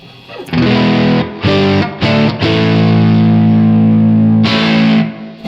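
A loud, heavily distorted electric guitar through Universal Audio Paradise Guitar Studio plays thick sustained power chords, with a few quick stabs and changes, ringing out with effects.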